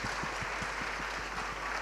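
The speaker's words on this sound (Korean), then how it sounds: "우리 한번 박수로 격려하도록 하겠습니다." A church congregation in Saigon applauding during an ordination thanksgiving service, a dense even crowd clap that carries on steadily under faint room noise.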